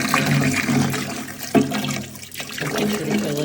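Water pouring into the top of a Hiswelle 8L smart cool mist humidifier tank, a steady close splashing and trickling fill with one brief sharper splash partway through.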